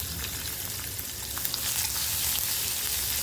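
Finely chopped onion sizzling steadily in a pan with mustard seeds, cumin, asafoetida and curry leaves, a dense continuous fry that swells slightly louder toward the end.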